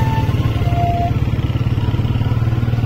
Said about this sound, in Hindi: शायद सेकंड गियर में है बाइक अभी, और मैं इसी तरह आहिस्ता आहिस्ता जाऊंगा